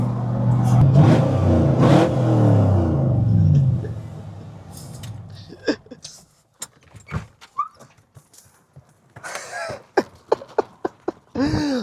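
A 1963 Chevrolet split-window custom car engine rumbles loudly while driving at first, then quiets into intermittent knocks, clicks and short bursts of mechanical noise.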